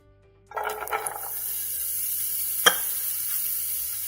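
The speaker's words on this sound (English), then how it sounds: "I'm just going to saute the zucchini" Zucchini and onions hit hot olive oil in a pan and settle into a steady, close sizzle, with a few stirring scrapes and a sharp clink partway through.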